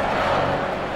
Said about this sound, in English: Listen to the crowd trying to rev up their guys, down by a couple of goals.